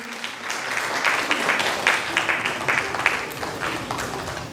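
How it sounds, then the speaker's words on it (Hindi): An audience at an award ceremony in Kalidas Rangalaya applauds with sustained, dense clapping that swells and holds steady for several seconds before tapering slightly. "एक बार जोरदार ताली"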